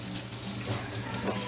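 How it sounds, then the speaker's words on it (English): Tap water runs steadily over a cutting board being rinsed before preparing bluegill, a continuous close splashing rush that holds even throughout. "I'm going to go ahead and rinse my cutting board also"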